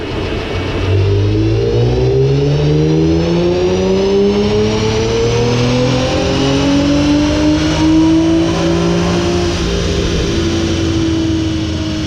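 A car engine on a dyno winds up steadily through the gears under full load during a baseline pass, pitch climbing and shifting in long sweeps, loud and continuous with no voices.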